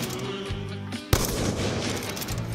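Single sharp gunshot in a retro shooter video game, one loud crack cutting through dense, noisy game background sound.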